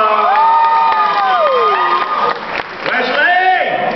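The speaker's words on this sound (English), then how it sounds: "Give her a round of applause." A contest audience applauds and cheers for a winner at a lively event, with whoops and excited shouts rising over steady clapping; the crowd noise is loud and continuous throughout.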